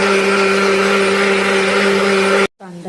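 A mixer grinder whirs loudly and steadily, grinding dried coconut, cashews and green chillies into a fine paste. It cuts off abruptly near the end, followed by a brief clatter.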